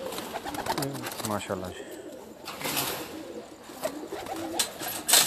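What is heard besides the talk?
white pigeon cooing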